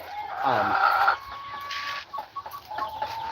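A breeding flock of Australorp hens clucking in a coop, a few close calls and a brief crow-like phrase over quieter scattered clucks, moderate in level.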